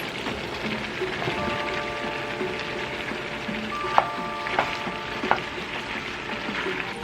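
Mushrooms sizzle steadily in a hot pan as part of a vegan tofu scramble, a soft continuous crackle with a few faint clinks and taps of a utensil against the pan.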